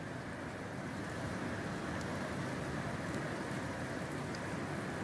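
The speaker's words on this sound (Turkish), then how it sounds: "Ve günün sonunda yağmur başladı." Steady rain falls in a rural village, a continuous soft hiss of drops with no breaks, fairly faint and even throughout, with no voices.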